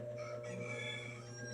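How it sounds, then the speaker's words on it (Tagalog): A chicken crowing in a steady, drawn-out call, faint and somewhat distant, with no talk. "May tumunog na manok."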